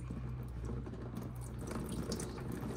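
Yellowish coolant water from a botched Mazda RX-7 rotary engine cooling system drains out in a steady, close splashing stream, continuous and unbroken with no talk over it.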